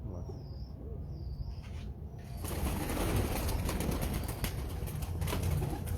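A pigeon flutters and coos nearby, soft coos at first, then a burst of wing flapping and rustling that fills the rest of the moment, with faint high whistling early on.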